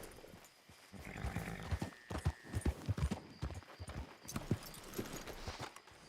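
A horse's hooves clip-clopping in Red Dead Redemption 2, a run of uneven close steps with some louder strikes in the middle, no voices over them.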